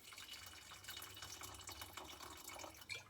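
Water is poured over chestnuts for homemade marrons glacés, a faint continuous splashing and trickling with small drips, quiet and close, without speech.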